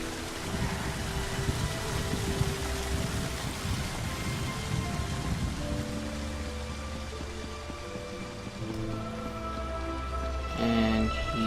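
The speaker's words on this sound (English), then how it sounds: "It had to be raining." Steady rain hisses throughout a stormy scene in the video game ESO Morrowind, a dense, even wash of drops with a low rumble and faint tonal game sounds layered beneath, no voices.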